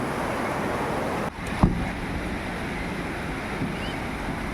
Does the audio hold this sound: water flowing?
yes